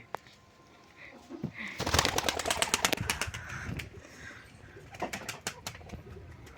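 Pigeons in a coop coo repeatedly at close range, soft throaty calls that swell into a dense burst of wing flapping and scuffling in the middle, then settle back into cooing.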